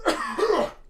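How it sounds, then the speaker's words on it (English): A man's deliberately rough, raspy cough, done as a mock zombie cough, comes in two harsh bursts close to the mic with no talking during it. "now I got to do my zombie cough."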